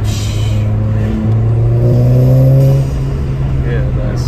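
A VW Golf R MK7 with an EA888 engine and a RAMAIR induction kit drones at a low, steady engine tone that rises slightly, then fades, with faint whooshy intake noise; no distinct flutter stands out.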